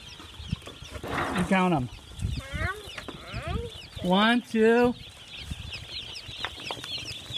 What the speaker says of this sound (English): 300 little baby chickens